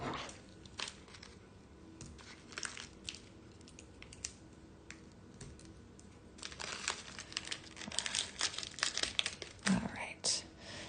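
Scissors snip open plastic packaging on a bead mix, giving close crinkling and crackling bursts that grow busier toward the end, under occasional soft speech.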